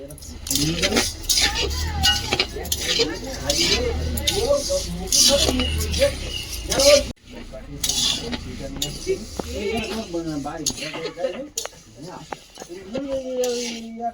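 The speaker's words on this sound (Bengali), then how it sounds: "ডালটা একটু শুকনো খোলায় ভেজে নেবো এটা মুগ ডাল" Moong dal dry-roasting in a pan with no oil, stirred with a metal utensil: repeated scraping and clinking, close, running under a voice that talks through most of it.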